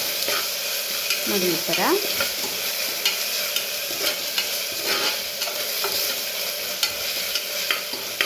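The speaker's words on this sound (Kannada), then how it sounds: "ಇದೊಂದು ಸ್ವಲ್ಪ ಹಸಿ ಸ್ಮೆಲ್ ಹೋಗೋ ತನಕ ಚೆನ್ನಾಗಿ ಫ್ರೈ ಮಾಡ್ಕೊಳ್ಳಿ." Fenugreek leaves frying with garlic paste in a pan for chickpea sambar, a steady close sizzle throughout with scraping stir strokes early on and a brief spoken remark.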